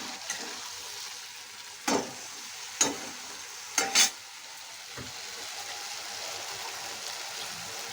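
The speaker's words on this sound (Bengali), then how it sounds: "ভালো করে কষিয়ে নেব যতক্ষণ না তেল বেরোচ্ছে মশলা থেকে" Spice paste frying in oil for khichuri and aloo dum, with a continuous low sizzle under a few distinct scraping stirs clustered early, two close together near the end of the sequence, then steady frying alone.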